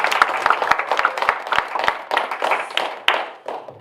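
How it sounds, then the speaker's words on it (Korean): Brief applause from a small church congregation thanking an author, with distinct individual claps standing out over a light patter that fades within a few seconds. "감사의 박수"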